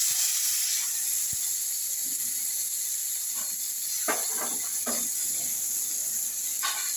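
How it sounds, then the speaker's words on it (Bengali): Tomatoes frying in a pan while cooking chili paneer, a steady close hiss of sizzling throughout with a few brief crackles and pops, no talking. "টমেটোগুলোকে দিয়ে দেবো টমেটোগুলো আগে একটুখানি ভাজা হোক"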